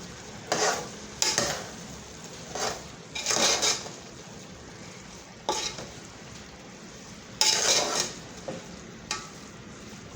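Vegetable pulao rice being stirred together with spring onion and cabbage in a pot: a series of short scraping, rustling stirs in irregular bursts, close and moderately loud, with no voices.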